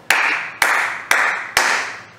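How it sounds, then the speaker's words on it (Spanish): Four sharp hand claps in a steady quarter-note pulse during a body-rhythm exercise in a music class, evenly spaced and close, each with a quick decay and no talk over them. "Las negras, con un aplauso"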